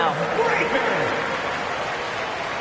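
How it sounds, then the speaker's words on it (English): Crowd applause and cheering in the basketball video game NBA 2K23 during a Celtics versus Spurs game, a short dense burst under an announcer's talking. "Give them another round of applause."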